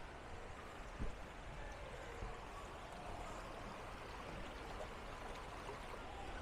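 Steady rushing water from a flowing spring stream at Disney's Wilderness Lodge resort fills the scene, constant and moderately close, with no voices.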